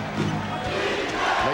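Basketball arena crowd at a 1996 Bulls versus Lakers game, a dense steady roar of cheering and murmur filling the space, with a commentator's voice faintly mixed in.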